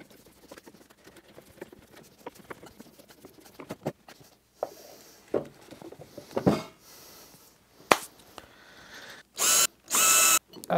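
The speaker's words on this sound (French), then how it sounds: "il faut que je perce la partie mobile de la presse Moxon pour accueillir les greppes push-up" A drill bores holes in the moving jaw of a wooden Moxon vise during a workbench build, with quiet workshop clatter first and then two loud, sustained drilling bursts near the end.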